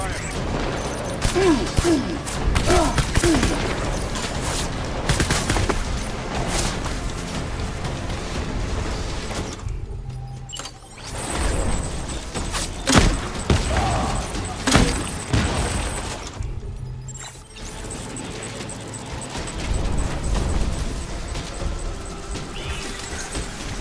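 Gunfire rattles in the video game Death Stranding, dense bursts of shots and impacts over a long, busy battle soundscape, loud throughout, with shouted voices mixed in.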